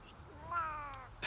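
A cat companion in the video game Monster Hunter: World lets out a single short, faint meow, followed by a brief sharp click.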